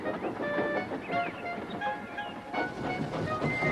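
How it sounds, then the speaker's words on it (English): A steam engine hauls a train of heavy coal cars, a steady rumbling clatter of wheels and wagons with scattered metallic squeals and rattles, fairly close and continuous. "Douglas steamed by. He was pulling a train of heavy coal cars."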